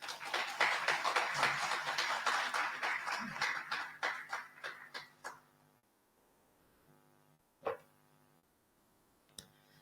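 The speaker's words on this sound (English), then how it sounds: "Let's give her another round of applause, please." A conference audience claps in a dense burst of applause that tapers off over several seconds, followed by a couple of isolated thuds and a faint tonal hum.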